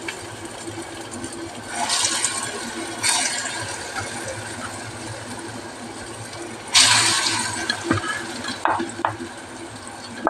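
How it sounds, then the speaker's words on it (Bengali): Masoor dal phuluri, lentil fritters, frying one by one in hot oil, giving a steady soft sizzle with brief louder bursts of crackle as each fritter drops in, close and with no talk over it. "এবারে আমি একটা একটা করে ভাজবো।"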